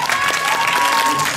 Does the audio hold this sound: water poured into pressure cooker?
no